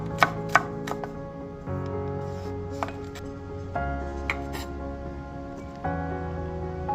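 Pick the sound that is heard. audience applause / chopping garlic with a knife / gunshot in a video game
chopping garlic with a knife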